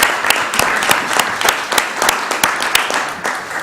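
Brisk applause at a Columbus, Georgia city council meeting, many hands clapping close and loud in a continuous patter with sharp individual claps standing out.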